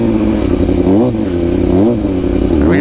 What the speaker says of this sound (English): First wheelie.